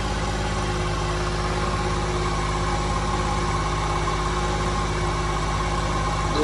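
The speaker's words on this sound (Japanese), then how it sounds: "さあエンジンかかりました。" Motorcycle engine idling steadily right after its main jet was changed to size 185 and its valve springs were swapped, fitted with coated piston and bearings; a continuous, even, loud rumble with no talk.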